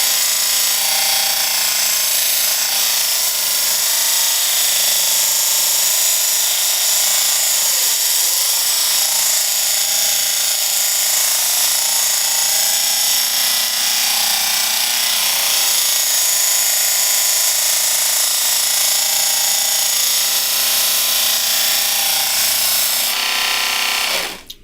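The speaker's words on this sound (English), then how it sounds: "So we're gonna attempt to use this little" A small power sander grinds continuously and loudly at close range, a harsh, steady buzz with slight shifts in pitch as it works the surface, with no talking.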